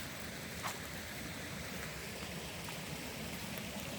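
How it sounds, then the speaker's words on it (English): A woodland brook in Northern Maine on a hot, dry day, running low, gives a steady, even rush of flowing water close by, with no voices and no pauses. "We are very lucky to still have some water flowing"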